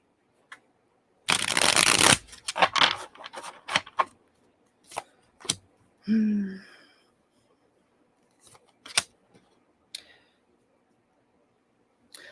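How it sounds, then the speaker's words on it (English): A deck of cards is riffled in one long rapid flurry, followed by scattered taps and clicks as the cards are squared and handled, with brief murmuring. "One more shuffle."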